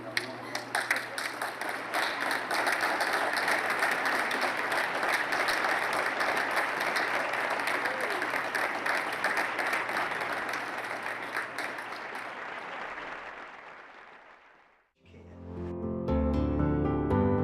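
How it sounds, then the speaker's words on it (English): A standing audience applauds loudly and steadily for about fourteen seconds at a speaking event, the dense clapping then cutting off as music begins. "give Mr. Steve Jennings a big applause"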